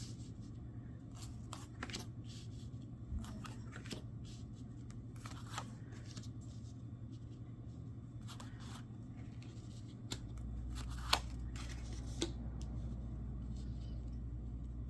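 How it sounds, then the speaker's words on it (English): Tarot cards being laid out and shuffled at a quiet table, with soft intermittent riffles and slaps spread over several seconds against a steady low hum. "as I lay out your cards and shuffle the next deck"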